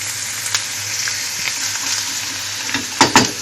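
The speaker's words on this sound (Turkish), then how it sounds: "Bir miktar sonra fasulyelerimizi tekrar karıştırıyoruz." Green beans fry in oil in a pan, a steady close sizzle with a few sharper scraping knocks as they are stirred near the end; no talking.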